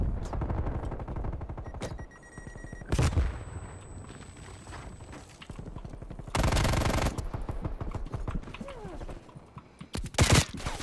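Rapid automatic gunfire from the Call of Duty video game rattles in long bursts, broken by a few loud single shots and short pauses, close and harsh.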